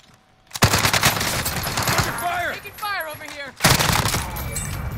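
Gunfire in a first-person shooting game, several loud sharp bursts of shots separated by short gaps, with people talking over the fighting.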